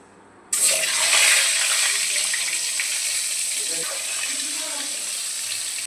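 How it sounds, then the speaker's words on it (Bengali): Eggs drop into hot oil seasoned with turmeric and salt in a pan, bursting into a sudden loud, steady sizzle that hisses on evenly and fades slightly, close up, with no talk. "এরপর এক এক করে ডিমগুলো ভেজে নেব।"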